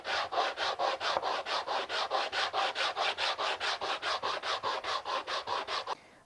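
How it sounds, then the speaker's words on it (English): A wooden inlay piece rubbed rapidly back and forth against a surface to level it, about two dozen quick, even scraping strokes, close and alone, stopping near the end. "it's just a simple matter of rubbing the piece backwards and forwards until these surfaces are the same level"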